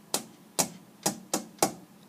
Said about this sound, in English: One morning, Bear heard a tap, tap, tap